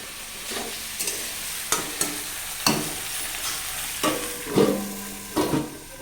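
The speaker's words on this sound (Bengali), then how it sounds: "এদিকে আমাদের পুদির আলু ভাজা হচ্ছে" Potatoes and pointed gourd (kudri) sizzle steadily as they fry in a pan, with a continuous close crackle and occasional sharper stirring scrapes, no voices.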